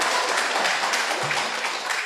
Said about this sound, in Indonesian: tepuk tangan silahkan ya